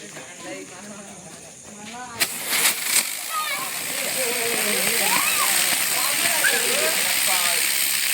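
Rain falling outdoors during a village Diwali frying party, a steady broadband hiss that builds and fills the scene, with people chatting and a few sharp knocks beneath it.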